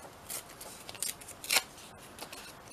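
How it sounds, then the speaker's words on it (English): Scissors snip through paper for a mixed media collage: several quick, faint crisp cuts spaced irregularly, close by, with no speech. "Where's my scissors? Let's just cut them off."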